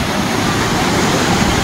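Rushing water from a waterfall at the end of a hiking trail, a steady, loud broadband roar that fills the whole clip without letup, close by.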